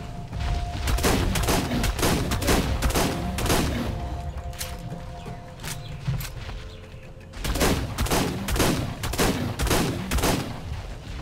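Rapid volleys of gunfire from a fight against dinosaurs in the game ARK, loud close bursts of shots that thin out briefly midway before another barrage.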